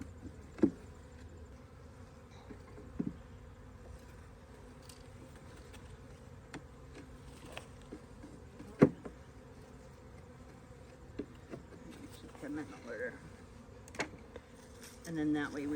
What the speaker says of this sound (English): because this makes the bees a little mad.